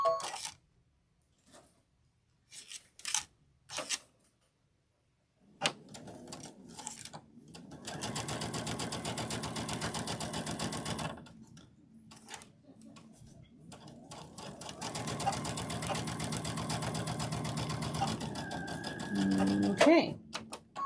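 A sewing machine stitching a Riley Blake sewing room door banner, first in short separated bursts, then long steady whirring runs of rapid stitching, with a person talking at times between them.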